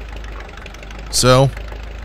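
Climax geared logging locomotive, a little switcher, idling with a low, steady rumble throughout, while a voice briefly speaks over it.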